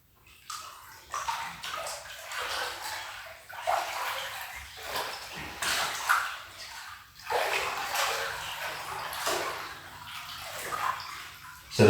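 Water sloshing and splashing as someone walks slowly forwards and backwards across a pool, a steady run of surges that swell and ebb in repeated waves, fairly close with no talk over it.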